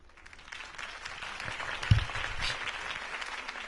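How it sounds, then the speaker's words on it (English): Crowd applause from the Batman Telltale Series video game, a steady wash of clapping that swells slightly around the middle and holds at a moderate level with no talk over it. "could have heard that applause"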